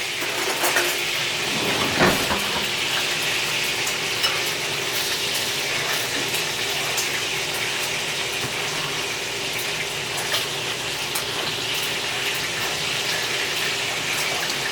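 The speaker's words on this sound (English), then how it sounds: "So I got the bacon frying over here, and we're just gonna stir this together." Bacon fries in a pan while cornbread batter is being made, giving a steady, dense sizzle and crackle that holds at an even level throughout, close by and with no voices.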